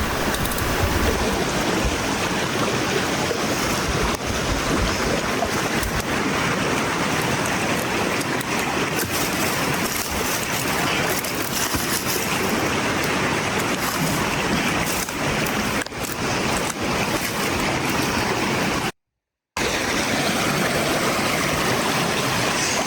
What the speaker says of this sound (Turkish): bakın nehir var. İki koldan geliyor